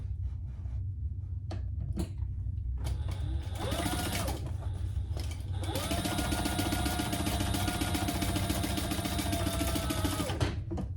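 A sewing machine stitches cotton quilting lining at stitch length 3, starting with a few clicks and short bursts before settling into a steady, close mechanical whir that runs for several seconds and then stops.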